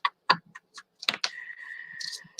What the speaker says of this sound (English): That was bad shuffling.